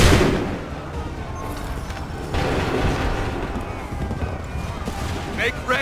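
A musket volley in Assassin's Creed III, a loud crackling burst of massed shots at the start that decays into battlefield rumble and scattered reports, with shouted commands mixed in.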